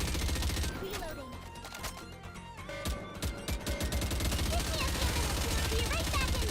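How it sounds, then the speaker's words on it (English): Rapid machine gun fire in a video game, dense and continuous over music and game sounds, steady and loud throughout. "That machine gun. I love how machine guns work in this game."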